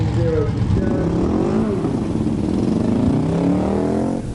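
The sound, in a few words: drag racing car with nitrous oxide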